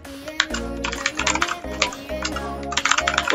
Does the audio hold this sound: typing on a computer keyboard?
yes